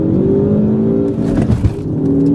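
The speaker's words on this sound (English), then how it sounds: "One past that red line to the rev limiter." Engine of a 2013 Ford Focus ST revving hard close up, a loud sustained rising roar that holds near the rev limiter with a brief stutter midway.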